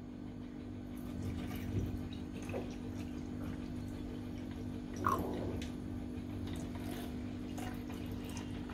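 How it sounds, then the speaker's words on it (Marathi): Water trickles softly into a glass holding raw mango drink concentrate, a faint, continuous pour with a small splash partway through over a low hum, with no voices. "आता आपण पाणी घालूया ग्लासमध्ये।"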